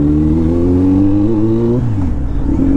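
Kawasaki Z900 motorcycle exhaust, a loud steady rumbling drone held at high revs that drops back as the throttle closes.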